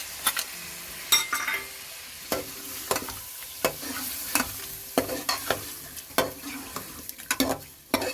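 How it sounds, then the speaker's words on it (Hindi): Ginger-garlic paste sizzles and fries in a pan for a Lahori murgh cholay, with steady crackling under repeated stirring scrapes and spoon knocks, close and moderately loud, no talking. "उसके बाद हम ये अदरक लहसुन का पेस्ट डाल देते हैं।"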